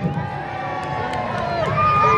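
Spectators cheer and shout at a medieval jousting tournament at Warwick Castle, a short burst of crowd noise that swells toward the end, mixed with horns or music and an announcer's voice.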